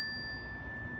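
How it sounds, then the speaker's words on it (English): A mindfulness bell rings once with a clear, bright strike, then its steady tones hang and slowly fade over a quiet background, heard alone. "So I'm going to ring the bell one more time."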